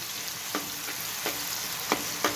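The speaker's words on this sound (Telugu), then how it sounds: "ఇప్పుడు పెద్దలపాయ ముక్కలు వేసుకుందాం. ఇవి ఎర్రగా ఏగాలి" Onion pieces fry in a pan of hot oil for a prawn and drumstick masala curry, giving a steady soft sizzle with a few sharper stir scrapes spaced through the short stretch, close and without any voices.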